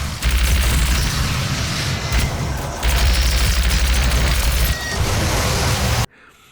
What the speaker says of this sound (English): its alternative is a devastating AoE blast of heat that's accumulated by the plasma rifle's repeated